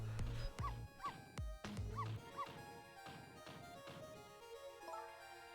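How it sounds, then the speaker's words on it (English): A small dog in the video game Ghost Trick barks repeatedly in quick yips over about five seconds, with squeaky whimpering tones and clattering game sound effects, close and fairly loud without speech. "No, Missile, you're not supposed to bark."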